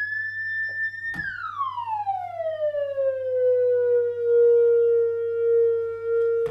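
A 1978 RiHa Orchestra analog mono synth holds a steady bright tone, then its glide control sweeps the pitch smoothly downward over a few seconds to settle on a sustained lower note, loud and alone over a low constant hum.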